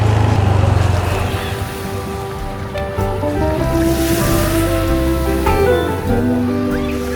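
Calm sea waves wash onto the white sand of Lalos Beach in Tolitoli, a steady, full rush of surf with wind buffeting the microphone, close and continuous with no voices.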